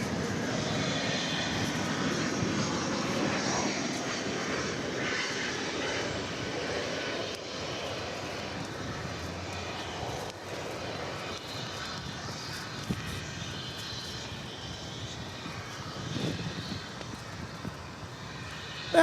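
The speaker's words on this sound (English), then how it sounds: "That was American Flight 2266, touching down from San Antonio, Texas, in that Airbus A320." An American Airlines Airbus A320 arriving from San Antonio touches down at DFW Airport, its engine roar steady and fairly loud throughout, with wind noise and no talking.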